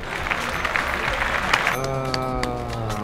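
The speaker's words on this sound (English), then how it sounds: "Insert claps and applause" Brief burst of clapping and applause, fairly close, fading after a moment into a sustained tone with voices underneath.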